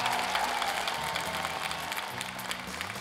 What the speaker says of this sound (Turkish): Alkışlarımızla.